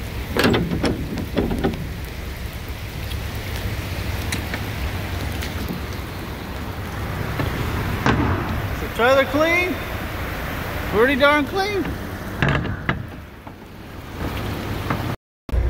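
Heavy rain falls outside a truck, a steady loud hiss of downpour that runs the whole time, with someone talking over it and a few brief sharper sounds.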